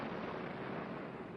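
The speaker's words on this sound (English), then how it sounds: "men race across the pits to deposit dynamite charges, then blast away channels in the crust" Dynamite charges blasting drainage channels through a dried crust in the Panama Canal excavation pits, heard as a continuous loud, rumbling roar of sustained blast noise with no distinct separate bangs.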